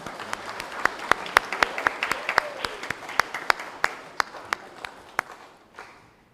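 Church congregation applauding during a Sunday Advent service, with sharp, distinct claps in a steady, fairly rapid rhythm that thin out and stop after about five seconds, with no talking.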